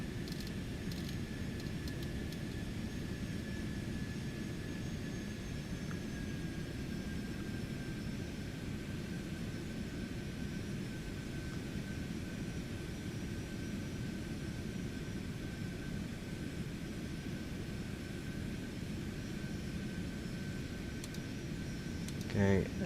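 Continuous jet engine roar of a Cessna Citation X cruising in a flight simulator game, a steady broadband hum with a faint high tone throughout, no speech.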